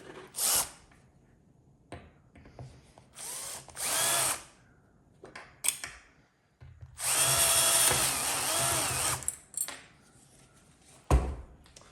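Power drill removing a stud from an Indiana Jones pinball machine, heard in several loud bursts of whirring of varying length separated by pauses, with clunks and handling noises between.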